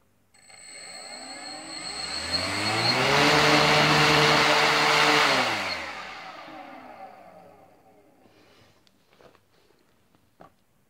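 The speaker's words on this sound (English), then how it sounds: "so we're gonna run the motor here," A Tarot 2814 700kv brushless motor on a 2-cell battery spins up into a loud, rising electric whine, holds at a steady high pitch for a few seconds, then winds down, followed by faint clicks and handling noise.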